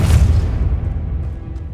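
A Depulso spell blast in Hogwarts Legacy lands as a single deep, booming thump that rolls off into a low rumble and fades.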